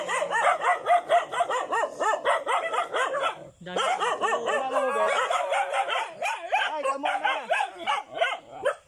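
Several dogs bark rapidly and repeatedly, close by and loud, with some yipping and whining mixed into the continuous barking.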